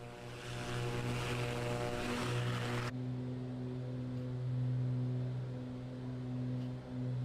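A Beechcraft Baron B58 twin-engine propeller plane in a flight simulator drones steadily throughout, with a strong low engine hum and layered harmonics. A brighter wash fills the first three seconds, then the tone continues smoothly and evenly.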